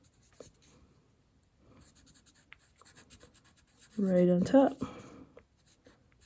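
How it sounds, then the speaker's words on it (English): A pencil scratches a signature onto a finished snowflake painting done in Prussian blue, with soft, quick scribbling strokes close to the microphone, and someone speaks briefly between them. "I can sign it with my pencil"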